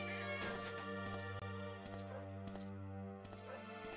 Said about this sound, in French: Il ronfle ou il ronronne, je ne sais point.